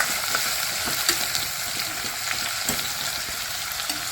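Chili powder stirred into bottle gourd curry frying in a pan, a loud continuous sizzle with scattered stirring scrapes throughout, no voices.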